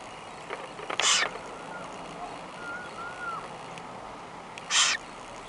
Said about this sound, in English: Baby bird, baby bird.